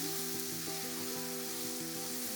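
Ginger and onions sizzle steadily in a pan with salt, a continuous close frying hiss with faint tonal hum beneath and no voices.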